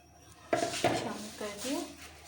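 Marinated chicken for dahi tikka tipped into a cooking pan: two sharp metallic clatters of pan and utensil close by, then softer scraping and shuffling as the pieces settle, with faint voice in the background.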